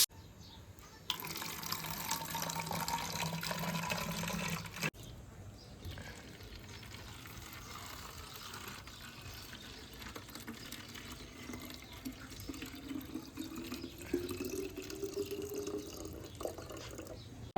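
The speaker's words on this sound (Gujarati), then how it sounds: "ચાલો હું ફટાફટ પાણી ભરી લઉં" Water runs from a tap into a container, a faint steady stream with a louder burst early on, then a rising filling tone as it fills.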